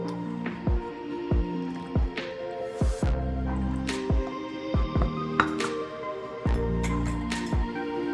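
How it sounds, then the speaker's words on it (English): Eggs and oil are stirred together for applesauce spice bread batter, with a spoon clinking rhythmically against a bowl in repeated close, bright taps and soft squelches. "So I'm gonna mix the eggs, the oil,"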